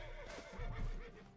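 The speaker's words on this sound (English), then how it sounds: "what the hell is a horse doing all the way over there?" A horse in the Mount and Blade video game, set in a samurai versus Mongols invasion battle, gives one faint, clear whinny with a wavering neigh, heard alone.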